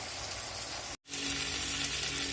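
Drumstick pieces sizzle steadily in a covered pan, a close hissing fry broken by a brief gap of silence partway through before it carries on just as strong.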